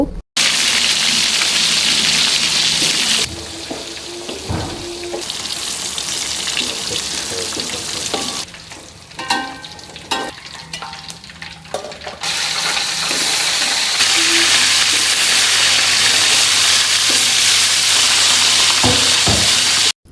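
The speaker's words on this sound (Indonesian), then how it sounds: "Untuk tempe dan juga tahunya tadi udah selesai aku goreng semua" Tempe and tofu frying in hot oil for a sayur asem meal, a steady loud crackling sizzle that runs the full length with brief clatters of stirring and utensils, no talking.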